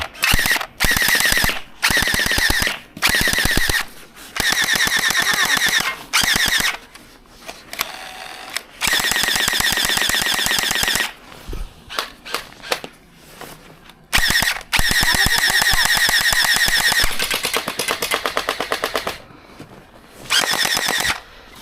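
Toy gel bullet gun firing in rapid automatic bursts, loud buzzing mechanical rattles that start and stop repeatedly with short gaps between, close to the microphone, no talk.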